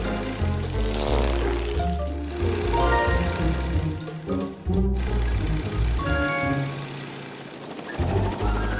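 A cartoon airplane propeller whirs and buzzes in a children's animated show, a bright droning rattle that rises and fades amid playful music and effects.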